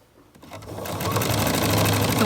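A sewing machine stitches selvages onto a quilt, starting with a few slow stitches and speeding up into a steady, rapid, close mechanical whir.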